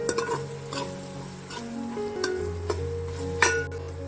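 Garlic and ginger paste sautéing in a pan for a restaurant-style paneer biryani, with a soft steady sizzle, stirring scrapes and occasional utensil clinks close by, no talking.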